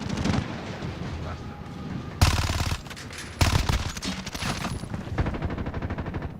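Bursts of MP5 submachine gun fire in Modern Warfare, arriving in two loud close volleys amid a busy mix of other gunfire and battle noise, with talk faintly underneath.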